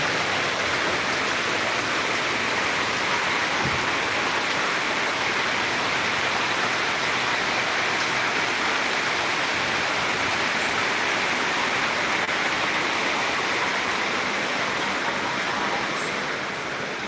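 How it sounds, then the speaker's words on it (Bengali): Heavy torrential rain pours steadily through the night, a dense, continuous roar of downpour filling the whole stretch without letting up or changing in intensity. "মশন্তালি বৃষ্টি হচ্ছে প্রায় দুই থেকে তিন ঘন্টা যাবৎ বৃষ্টি হচ্ছে এখানে"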